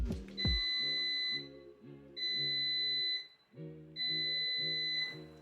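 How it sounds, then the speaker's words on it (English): An air fryer sounds three separate electronic beeps in an even, spaced sequence as preheating finishes, each tone clear and sustained, with quiet background between them. "your air fryer will beep 3 times."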